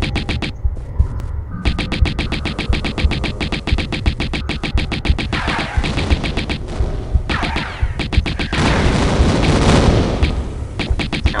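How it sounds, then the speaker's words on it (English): Rapid, loud gunfire from Lara's weapons while fighting mutants in Tomb Raider: Unfinished Business, The Hive level in Atlantis; dense, rhythmic bursts of shots continue almost without pause, with a few brief gaps and heavier blasts. "Okay, Lara, just shoot those bastards"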